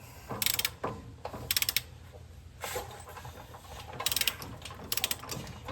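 A ratchet wrench turns on a ball joint of a Ford Dana 60 front axle, giving bursts of quick, close clicking in short repeated strokes with quiet pauses between.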